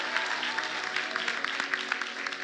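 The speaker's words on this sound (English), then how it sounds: "Give everyone a round of applause." Crowd applause, a dense wash of clapping that holds steady throughout at moderate volume.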